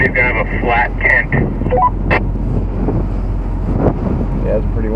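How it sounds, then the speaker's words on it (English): Gusty wind at an exposed overlanding campsite in Newfoundland, rumbling constantly against the microphone as a person speaks through the noise. "Yeah, it's pretty windy."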